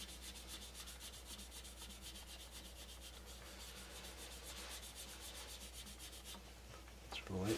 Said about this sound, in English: you can see some of those sanding scratches. So go ahead and lightly